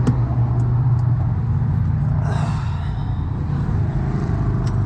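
Road traffic rumbles close by, a steady loud wash of car noise with one vehicle swooshing past midway.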